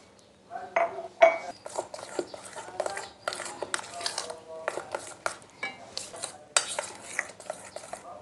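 Flour batter for crispy fried snacks is whisked in a bowl, with repeated close scraping and clinking strokes of a utensil against the bowl in an irregular rhythm, without talk.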